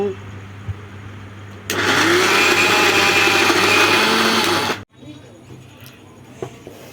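An electric mixer grinder whirring loudly as it grinds soaked lentils (dal) into batter for dahi vada, starting abruptly, running steadily for about three seconds, then cutting off sharply, with quieter room sound before and after.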